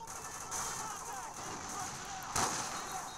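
Gunfire in Call of Duty 4 campaign combat, a few distant crackling shots and bursts under a faint background hum, with one louder report near the end.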